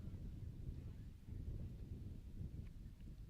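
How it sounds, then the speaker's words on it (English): Wind gusts buffet the microphone on a windy afternoon at an outdoor high school baseball game, a low rumbling roar that swells and dips throughout, fairly faint overall. "Wind picks up again here."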